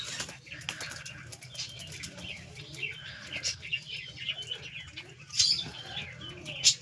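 A male pigeon coos repeatedly in a loft after pairing with a hen, soft rolling calls mixed with wing flutters and light chirps nearby.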